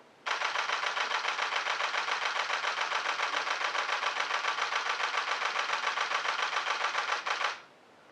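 A Nikon D850 camera shutter fires a continuous burst of rapid, evenly spaced clicks, close and loud, for about seven seconds before stopping abruptly.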